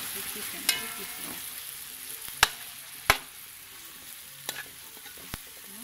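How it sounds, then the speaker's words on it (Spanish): Chicken fries in a pan with onion and sofrito, a gentle steady sizzle broken by several sharp clacks of a spoon stirring against the pot, close and quiet. "tenemos la cebolla, el sofrito, todos nuestros ingredientes sofriéndose con el pollo"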